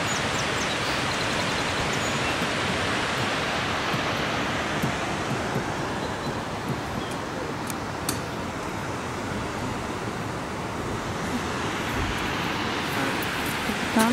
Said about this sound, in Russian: Водопадики.